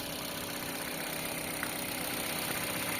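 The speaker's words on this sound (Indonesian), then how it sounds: "Untuk mesinnya sendiri ini masih terbilang halus ya teman-teman, dengan kondisi kilometer 134 ribuan ya teman-teman." A 134,000-km Mitsubishi Xpander engine idles steadily, a smooth, even hum that holds at a constant, moderate level for the whole stretch, with no voices over it.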